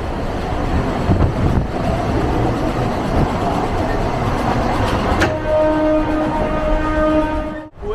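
Interior of a moving, nearly empty passenger train in West Bengal: a steady loud rumble and rattle of the carriage throughout, with a bright whine or squeal tones entering in the second half and a brief drop near the end.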